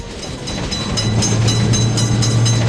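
A fast train runs through a road level crossing, its low rolling rumble building in the first moments and then holding loud and steady as wagons pass close by.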